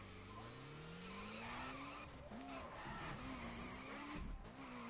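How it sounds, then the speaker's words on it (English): A Subaru drifts in The Crew Wild Run racing game, its engine droning and rising while tires skid and squeal steadily close up, with the engine pitch wavering through the slide. "See the drifting, bruh?"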